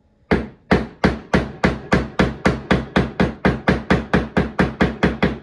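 A screwdriver is struck by a hammer to pry a metal manifold, in a steady series of about seventeen sharp, ringing taps, close and evenly spaced.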